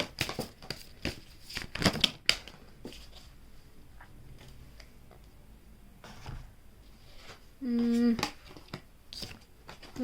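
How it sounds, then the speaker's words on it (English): Tarot cards being shuffled by hand make soft, intermittent papery rustles and crisp riffling bursts, close and fairly quiet, with scattered taps and handling noises and a brief tonal sound near the end. "Okay, we've shuffled."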